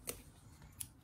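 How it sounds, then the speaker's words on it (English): Scissors snip twice through excess zipper tape on a sewn placemat pouch, two quick crisp cuts close up in a quiet room. "cut off my excess zipper on both sides"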